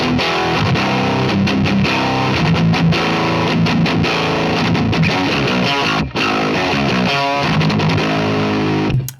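Heavy distorted electric guitar runs through a Neural DSP Mesa Boogie Mark IIC+ amp model with a fuzzy, round, fat tone, playing loud, dense riffs and chords almost nonstop, with one brief gap before it cuts off.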